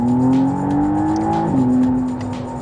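A 2024 McLaren Artura supercar engine pulls strongly under acceleration, its tone rising steadily, then dipping briefly at a gear change before climbing again, loud and close from inside the car.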